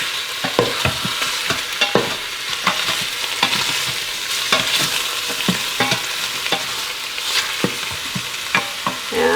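Beef pieces browning in a pot for broth, salted and stirred with a brisk run of scraping, clattering strokes over a constant sizzle, close and fairly loud with no talking.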